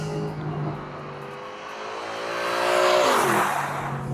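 A 6.3-litre naturally aspirated engine revs with a sharp exhaust, rising in pitch to a loud peak as the throttle is blipped, then dropping back to idle, close by with no talk.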